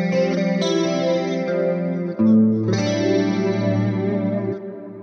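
Electric guitar in a clean tone through a Helix Litigator amp preset with low gain and dual cabs, sustained chords with chorus-like shimmer, a brief dip then a new chord ringing out, loud and close with no talking.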